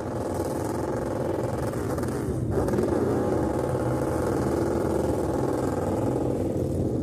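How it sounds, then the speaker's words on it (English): ARCA stock car doing a victory burnout at Toledo, engine roaring continuously at high revs with a brief dip and surge midway, loud and close with crowd and track noise beneath. "Smoke everywhere as Sammy Smith does the burnout for winning the race and the owner's title"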